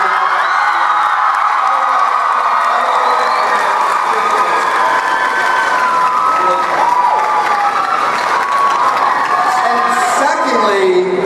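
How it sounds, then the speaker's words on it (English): A large convention panel crowd at San Diego Comic-Con cheers and applauds loudly, with whoops and high excited shouts over dense continuous clapping throughout. "I think we all just need to give a collective round of applause to Dylan O'Brien for everything he did"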